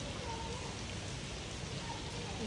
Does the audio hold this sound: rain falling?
yes